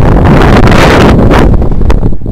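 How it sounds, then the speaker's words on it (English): Strong coastal wind buffeting the microphone in loud, rough gusts that ease toward the end, no voices. "Did you hear that wind?"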